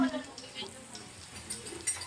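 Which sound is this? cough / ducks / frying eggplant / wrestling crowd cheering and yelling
frying eggplant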